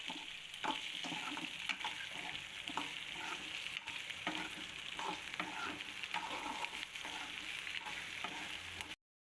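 Tomatoes sautéing in a pan with cumin, for an egg gravy, with a steady close frying sizzle and repeated stirring scrapes throughout, no talking.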